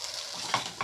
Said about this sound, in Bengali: ডিমগুলো মিশিয়ে দিয়ে আবারও আমি ভালো করে নাড়াচাড়া করে নেব।